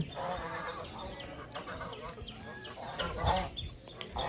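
A flock of Chinese geese honks and calls together nearby in a continuous, overlapping clamor. The calling grows louder toward the end.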